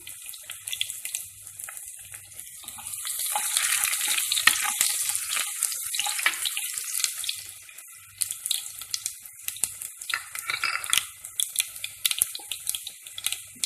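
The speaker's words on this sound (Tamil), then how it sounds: "பூண்டு நல்லா பச்சை வாடை போகிற வரை நல்லா வதக்கிக்கலாம்." Crushed garlic fries in hot oil in a pan, a loud, continuous crackling sizzle that swells and then settles into a busy spitting patter, close and without speech.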